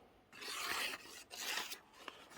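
A sheet of paper torn by hand in two or three bursts of ripping, close and fairly quiet, with short pauses between.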